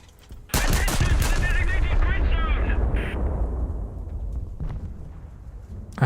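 Warship guns let loose a full salvo in a naval combat game, a sudden loud boom at the start giving way to a long rumbling roar that fades slowly, with a voice talking over it.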